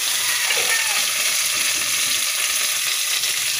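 Tomatoes fry with onions in a hot pan for adobo sitaw, giving a continuous close sizzle and crackle of oil with a little stirring, and no clear talk.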